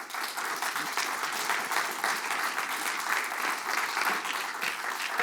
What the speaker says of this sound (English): Please welcome with a huge applause, with gratitude and thankfulness for Mr. Reverend Jesse Lee Peterson.